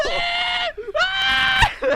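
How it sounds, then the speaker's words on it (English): A swordfish in a video game screams as it is slowly killed: two long, loud, strained shrieks with a short break between them, then the start of a third at the end. "It just screams as you slowly kill the swordfish."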